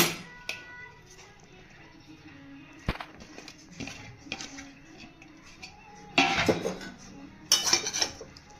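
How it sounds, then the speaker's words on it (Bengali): Semolina upma with vegetables stirred in a pan, a spatula scraping and knocking against the metal in sparse strokes with quiet gaps and louder clatter near the end, close and unaccompanied by talk. "আরও কিছুক্ষণ নাড়তে থাকবো।"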